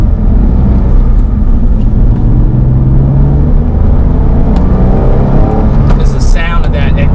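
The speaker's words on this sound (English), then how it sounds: "It's the sound of that exhaust." A Porsche 997 Carrera 4 drives with a loud, continuous deep exhaust rumble and steady engine drone filling the cabin, with no talk.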